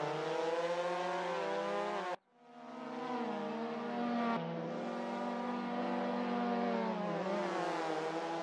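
Race car engines in a racing video game scream at high revs, one steady whine that cuts off abruptly and then climbs back through the gears, loud and continuous with no talk.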